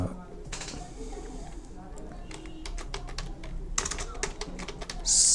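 Fingers type on a computer keyboard, entering invitation text in PageMaker, with soft irregular key clicks in short runs beneath a voice speaking throughout.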